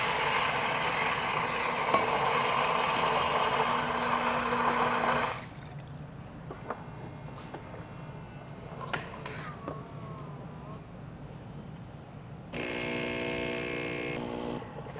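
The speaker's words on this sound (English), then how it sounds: "we will leave it at max strength and press espresso" A Saeco Incanto espresso machine grinding and brewing espresso: a loud mechanical whir for about five seconds, then quieter clicks and trickling, then a buzzing pump hum starting near the end.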